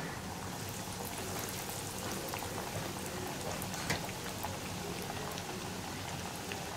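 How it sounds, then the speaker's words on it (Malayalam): Soya cutlets deep-frying in plenty of oil, dropped in one at a time, three to a batch, give a steady, dense crackling sizzle that holds at an even level throughout with no voices. "നമ്മൾ റെഡിയാക്കി വെച്ചിരിക്കുന്ന കട്ട്ലറ്റ് ഓരോന്നായിട്ട് എണ്ണയിലേക്ക് ഇട്ട് കൊടുക്കാം"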